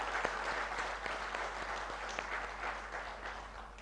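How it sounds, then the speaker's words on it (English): A crowd at a groundbreaking ceremony for a biopharmaceutical manufacturing facility gives a round of applause, dense continuous clapping with a few sharper individual claps, fairly close, over a low electrical hum. "I think they deserve a big round of applause"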